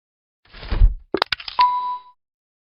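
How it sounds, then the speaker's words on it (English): An electric bell sounds twice: a low metallic clang fades, then a sharp series of ding strikes rings into a sustained tone that decays, alone with no voices. "Working of electric bell."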